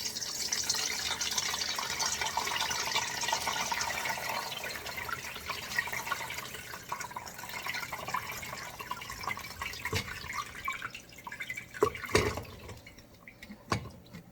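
Water drains out of a tub or basin in a steady, rushing gurgle that fills the space, easing off toward the end, where a few sharp knocks and clatters stand out.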